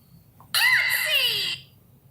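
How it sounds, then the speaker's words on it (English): A sound drop of the cartoon character Harley Quinn yelling an exclamation gives one loud, high, shrill yell of about a second, alone against quiet background hum. "it was Harley Quinn yelling Yahtzee"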